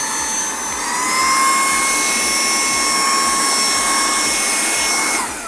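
An Aspiring Gale 4 GL16P12K robot vacuum's blower roars in maximum mode, a loud, steady high-pitched whine with a rapid rhythmic pulsing underneath, easing off at the end.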